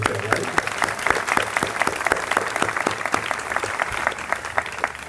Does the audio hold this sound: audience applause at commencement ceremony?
yes